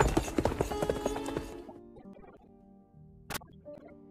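Horse hooves clatter quickly and loudly in a film scene, then break off; a horse whinnies and faint rustling follows, with a sharp click near the end.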